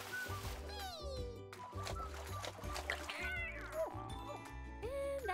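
Several cartoon cats meow repeatedly in a splashing kitty pool, with rising and falling cries over bouncy background music and light water sounds.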